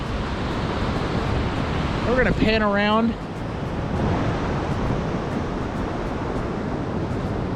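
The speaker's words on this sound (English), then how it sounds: "Just look at the ocean." Ocean waves wash steadily onto a coastal shore in tsunami territory, a broad continuous roar with wind buffeting the microphone. A person speaks briefly over the surf.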